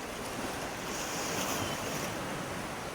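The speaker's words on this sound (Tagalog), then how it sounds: "Di natong nadungog ang mga huni o huyuhoy sa mga bawd sa kadagatan nga nagahampak-hampak diya sa kadaplinan" Sea waves wash against the shore at Kalangahan beach in Lugait, Misamis Oriental, a continuous broad rushing surf with wind buffeting the microphone, steady and close throughout.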